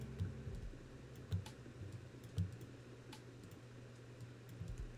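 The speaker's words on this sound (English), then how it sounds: "Clicking frantically." Several quick clicks of a computer keyboard or mouse, fairly faint and close, spaced over a steady low fan-like hum, with no voices.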